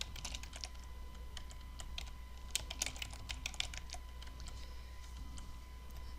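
An attorney's name typed on a computer keyboard, a quiet run of quick uneven key clicks close by over a low steady hum.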